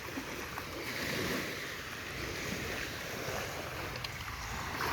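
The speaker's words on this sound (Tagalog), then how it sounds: "Ito ang baybayin namin pagka walang laot." Ocean waves wash steadily onto a quiet Bohol beach shore at high tide, a continuous broad rushing surge with wind, moderately loud and close, with no voices.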